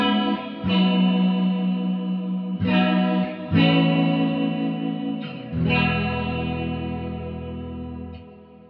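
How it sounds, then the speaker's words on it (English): Electric guitar through a Rocktek CHR-01 chorus pedal about 30 years old, with the pedal's tone control fully up. Sustained, shimmering chords ring out loud and up close with no talking, then fade at the end. "we'll see how the chorus pedal sounds overall with the tone of the chorus pedal turned fully up"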